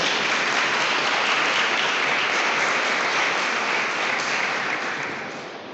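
A church congregation applauding during a sermon, loud, dense and sustained clapping close at hand, holding steady before gradually fading near the end.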